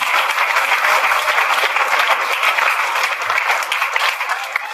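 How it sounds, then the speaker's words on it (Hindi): A crowd at a Teachers' Day school event applauding steadily, dense clapping from many hands that holds at full strength throughout. "सभी टीचरों को ताली बजा दीजिए।"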